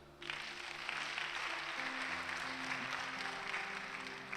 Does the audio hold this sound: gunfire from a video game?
no